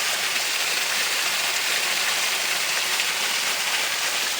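Mountain water spills over a natural waterfall in a forested spot in Sakarya's Karapürçek area, giving a constant broad rushing hiss at close range, even and loud from start to finish, with nobody speaking.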